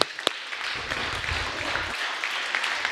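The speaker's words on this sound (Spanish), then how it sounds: "Un aplauso para Jaciel." Audience applause for a person called up at a Spanish-language talk on memory, a broad wash of clapping that rises after a sharp opening clap, steady and moderately loud for about three seconds.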